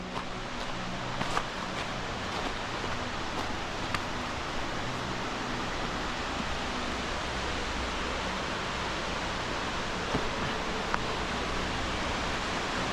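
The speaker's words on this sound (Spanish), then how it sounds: "cómo suena el río" Las Mestas river flowing beside a cave near Cangas de Onís, a steady broadband rush of water that holds constant and fairly loud for the whole stretch, with no talk over it.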